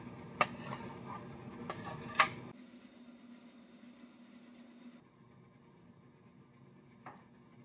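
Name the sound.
mixer grinder grinding boiled bottle gourd pieces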